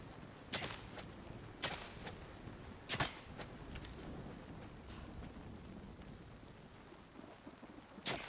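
In the Nightingale video game, steady rain hisses under repeated thunder cracks, three strong bursts in the first few seconds, then quieter rumbles and one more sharp clap at the end.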